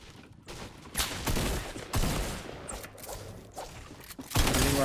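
SMG gunfire in the Fortnite video game crackles in rapid bursts of shots with overlapping impacts and game noise, loud and continuous over a few seconds.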